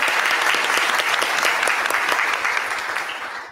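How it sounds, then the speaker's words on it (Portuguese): Sustained applause from a seated audience at a military law symposium in Portugal/Brazil, a dense even wash of clapping throughout that tapers slightly toward the end. "Pedimos uma salva de palmas"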